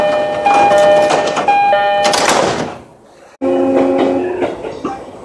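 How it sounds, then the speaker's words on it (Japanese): Electronic chime tones ring out over a busy, noisy background on a JR East Shonan-Shinjuku Line rapid train, then a whooshing slide and thud as the train door shuts, followed by another steady hum with tones. "宇都宮線ドアが閉まります。"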